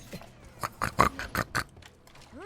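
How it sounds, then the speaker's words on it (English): Several pigs in a video game oink and grunt in a quick irregular string of short snorts at close range, with no one talking over them. "I don't know why we turned into pigs all of a sudden"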